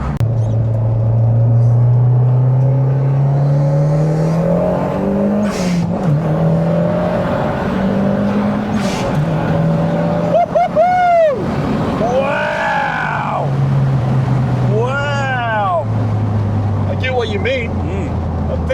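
A turbocharged car accelerating hard with a low engine drone climbing in pitch through the gears, loud and close from inside the cabin, while people talk over it.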